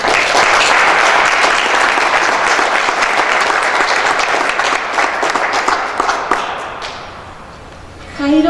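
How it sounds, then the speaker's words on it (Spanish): Sustained applause from an audience for Roberto, an award-winning Mexican broadcaster, at a cultural event, steady and dense for about seven seconds before thinning out as a voice begins. "Un aplauso para Roberto"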